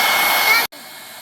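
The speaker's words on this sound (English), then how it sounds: "I'm gonna blow dry it" A hair dryer blows loud and steady on a glitter resin geode painting for over half a second, then cuts off abruptly, leaving a faint hum.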